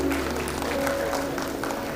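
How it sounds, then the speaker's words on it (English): A hall audience at a management institute's annual convocation applauds the certificate recipients, the fairly soft, steady clapping mixed with a faint tonal hum and some crowd murmur underneath. "A big round of applause for everybody who has received the certificate"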